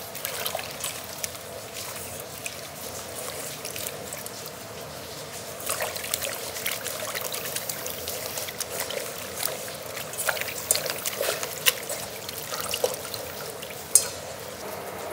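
Leeks are pulled apart and swished in water to wash off dirt, giving a steady trickling, sloshing wash with occasional louder splashes, near and alone throughout.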